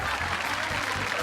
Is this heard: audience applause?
yes